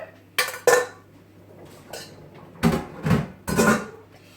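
Ingredients tipped into a crock pot for cashew chicken: a few short clinks and clatters of a utensil against the pot, clustered in two bursts with quiet gaps between, close by and without talk.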